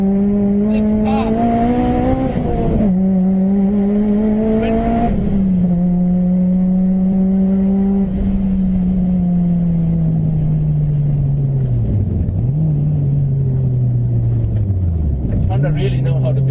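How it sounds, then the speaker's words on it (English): A Honda Civic Mugen RR engine revs hard at high RPM, a loud sustained whine rising and dropping with gear changes, close and continuous for the whole stretch. "Just listen to that glorious engine screaming"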